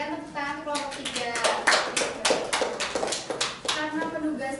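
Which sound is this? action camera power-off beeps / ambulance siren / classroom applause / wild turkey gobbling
classroom applause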